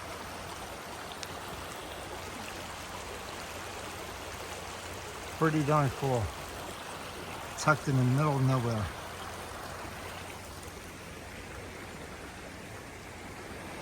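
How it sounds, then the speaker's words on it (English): A stream flows near a river crossing by the Kennebunk River, a steady broadband rush of water throughout, with someone briefly speaking over it twice. "Nice stream, look at this."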